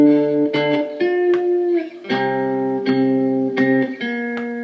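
A three-string cigar box guitar played with a slide, a short phrase of sustained tied notes that ring and glide between pitches, close and clear with no voices.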